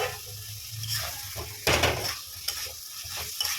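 Pieces of tough eel are added to hot oil in a pan and stirred, producing a soft sizzling fry with scraping stir strokes and a louder burst of spatter midway, fairly quiet and close.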